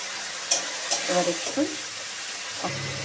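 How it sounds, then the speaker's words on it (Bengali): Ground garlic paste hits a hot pan and fries with a close sizzle and a few scraping stirs and clinks, with faint background sound and brief murmurs. "রসুনটা দিয়ে দেবো"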